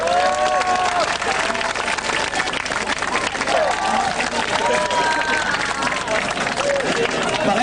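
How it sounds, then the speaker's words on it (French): Audience applause and cheering at a cosplay contest at BD Expo / Comicket 98, a dense, steady crowd noise lasting throughout, with babbling voices and shouts mixed in. "Applaudissements s'il vous plaît."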